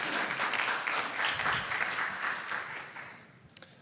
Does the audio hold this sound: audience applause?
yes